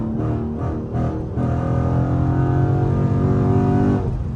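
A Dodge Charger SRT Scat Pack pulls hard with a loud, sustained engine roar and a rising supercharger whine, heard from inside the car, the engine note climbing steadily after a brief lift early on.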